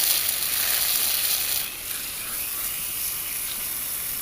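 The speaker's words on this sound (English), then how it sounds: "I gotta get more purple spray, guys" Purple antiseptic spray hisses in a steady close burst onto a duck's injured eye, loud for the first second and a half, then dropping to a softer continuing hiss.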